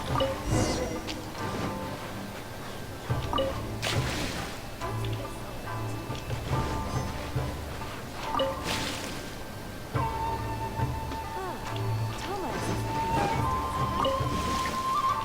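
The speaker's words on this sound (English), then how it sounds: "While we're here, though, we should water the trees." Trees being watered in the Genshin Impact video game: several splashy bursts of water sloshing stand out over continuous game music and ambience.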